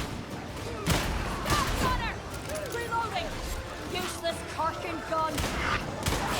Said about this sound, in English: Oh, he's shooting from the top.